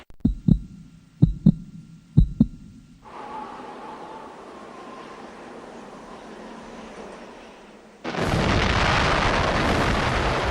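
An atomic bomb test: after a few deep thumping pulses, a low sustained rumble builds, then a sudden, loud, broad roaring blast takes over and holds to the end.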